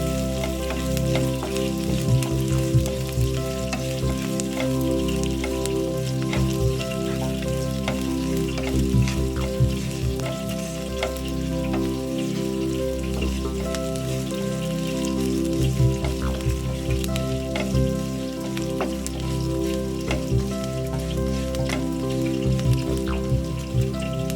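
Green chilies, curry leaves and onions fry in oil in a pan, a dense, continuous crackling sizzle like rain with occasional stirring clicks over a steady low hum, sustained and close.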